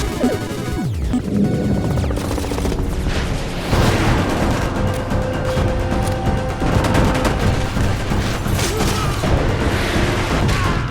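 Gunfire from the video game Stranglehold, with dense, continuous volleys of shots and booming impacts layered over a loud, busy action soundtrack throughout.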